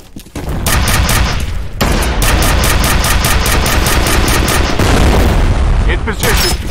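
Grenade blast and rapid gunfire in the FEAR Combat video game, a dense continuous barrage of loud shots and explosions with shouted voices mixed in.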